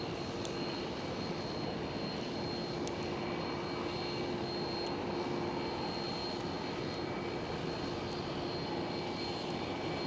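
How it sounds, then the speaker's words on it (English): A Lufthansa Airbus A319 departing Schiphol airport gives off a faint, steady distant jet engine rumble that holds evenly throughout, with no talk. "a Lufthansa who is departing right now. There it goes. Lufthansa A319."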